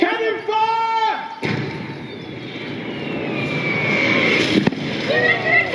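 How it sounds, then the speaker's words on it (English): Cannon fire during a staged Wars of the Roses battle show at Warwick Castle, a sudden loud boom followed by a long rumbling wash of noise and crowd sound, with voices talking before and after. "Cannon fire!"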